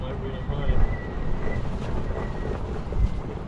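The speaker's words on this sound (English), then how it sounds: "Bloody windy still, isn't it?" Strong wind on the River Humber during a sea fishing session, a gusty roar buffeting the microphone with boat and water noise beneath, steady for a few seconds.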